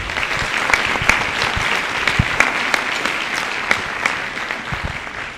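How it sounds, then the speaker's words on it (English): An audience applauds the symphonic band at a high school winter band concert, with brisk, full clapping from many hands and a few crisp nearby claps punctuating the steady roar. "How about another round of applause for the Symphonic Band?"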